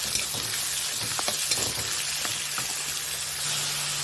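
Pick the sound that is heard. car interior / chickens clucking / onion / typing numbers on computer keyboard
onion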